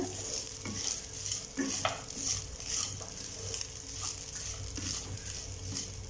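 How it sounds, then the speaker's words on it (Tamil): Coconut rice stirred in a pan with salt added, a steady scraping and sizzling that runs throughout, close and even, with occasional soft clinks of the utensil. "இது லைட்டாக கிளறிக்கோங்க."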